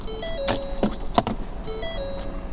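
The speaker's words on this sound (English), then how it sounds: "hit the remote start button twice, and there it goes, it fires up" A 2019 Ford Edge Titanium runs after a remote start, its low engine hum steady beneath a few short electronic chime tones and sharp clicks close by.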